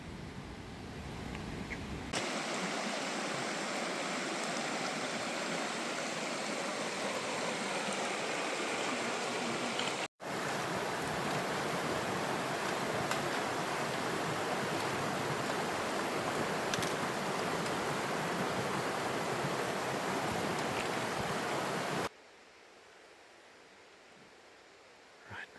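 Roar of a big waterfall in a creek gorge down below, heard from the Narrows in Fiordland: a steady, dense broadband rush of falling water that holds almost unchanged the whole time, loud and continuous, with no voices.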